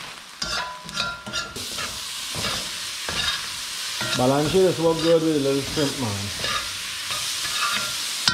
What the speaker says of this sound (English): Sizzling there, look at that.